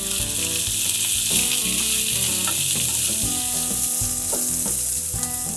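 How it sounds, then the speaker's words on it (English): Chillies, galangal, turmeric, cumin seeds, coriander seeds and roasted peanuts are stirred in a pan for Thai panang curry paste, producing a loud, unbroken sizzle with melodic background music running throughout. "Stir this well."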